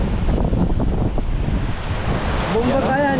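Large ocean waves crash and roar in a continuous, loud wash with strong wind buffeting the microphone at sea near a boat, and a faint voice-like tone near the end.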